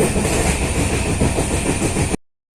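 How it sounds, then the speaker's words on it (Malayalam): A passenger train runs on after leaving Kottayam, heard from inside as a loud, continuous rumble with rhythmic clickety-clack from the wheels, which cuts off abruptly into silence near the end. "ഇതാട്ടോ നമ്മുടെ ട്രെയിനിപ്പോൾ കോട്ടയം വിട്ടു. ലേറ്റായിട്ട് കേട്ടോ ഓടുന്നേ."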